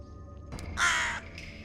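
A crow in the video game Tokyo Dark gives one loud, harsh caw near a shrine gate, preceded by a short soft thump, with quiet ambience before and after.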